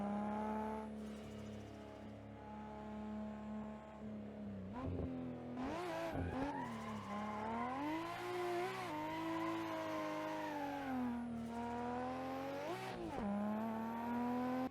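A car drifts in Assetto Corsa, its engine revving and rising and falling in pitch through clutch kicks, with tire squeal as the rear slides, loud and continuous with no voices.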